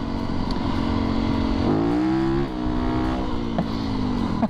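Yamaha YZ450FX dirt bike ridden as a dual sport, its engine loud and close, droning steadily before rising and dipping in pitch as the throttle changes.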